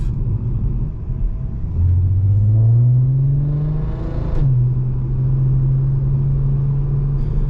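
A Volkswagen Golf MK5 R32 engine drops a gear and then pulls hard, its loud, close drone rising in pitch and blipping briefly during the shift before settling into a steady high rev, with no voices over it.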